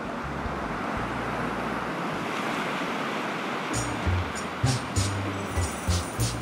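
Sea waves wash onto the beach at Necochea as a steady, loud broadband roar of surf, with a few brief splashes near the end and no voices.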